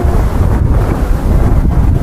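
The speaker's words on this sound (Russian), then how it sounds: "Ну, ветер, конечно, сильный." Strong wind beside a river buffets the microphone, producing loud, continuous low rumbling gusts with no speech.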